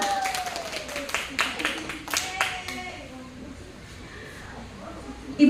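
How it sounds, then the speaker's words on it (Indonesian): Scattered hand clapping from a school audience greets two female teachers called forward at a positive-culture training session, a burst of claps over the first few seconds that thins out, with voices murmuring underneath. "Kita kasih tepuk tangan dong."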